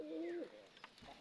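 A pigeon coos once, a soft low tonal call held for about half a second, followed by faint rustles in a quiet setting; no one talks during it.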